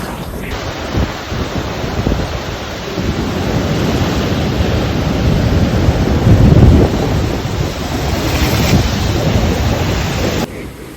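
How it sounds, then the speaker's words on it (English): Ocean waves crash and surge against a rocky coast in American Samoa, a loud, continuous roar of churning surf with heavier thumps of breaking water, steady wind noise over the microphone throughout. "That those waves smashed where you were."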